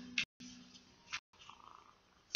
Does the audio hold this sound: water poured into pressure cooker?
no